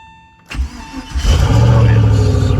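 A Porsche 996 with a swapped LS V8 cranks and fires, catching after a brief starter whir and settling into a loud, rumbling idle close to the microphone.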